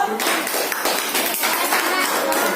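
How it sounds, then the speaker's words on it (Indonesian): A classroom group of students applauds group 4, giving a steady, dense patter of many hands clapping at once from start to finish, with no talking over it. "tepuk tangan untuk kelompok 4 dulu."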